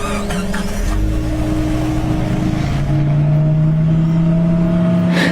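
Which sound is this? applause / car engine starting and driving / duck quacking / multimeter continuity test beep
car engine starting and driving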